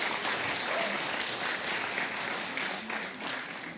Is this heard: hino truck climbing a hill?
no